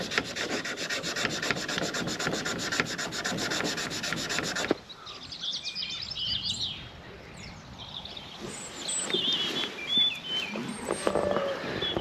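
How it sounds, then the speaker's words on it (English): A file rasps steadily to sharpen tree-work tools, a dense fast rubbing scrape for about five seconds, then quieter scattered scraping and handling noises, close up with no talking. "we let Patrick sharpen these"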